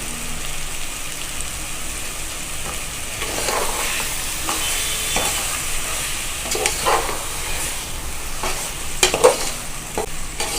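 Curry leaves and coriander frying in a pan for a village-style mutton curry, a steady sizzle with repeated stirring scrapes, loudest toward the end, and no talking.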